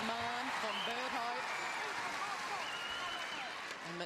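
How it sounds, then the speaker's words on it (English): A netball crowd at an Australia versus New Zealand test match applauds steadily in the background while a commentator talks over it, the clapping forming a continuous hiss-like wash. "And listen to the applause."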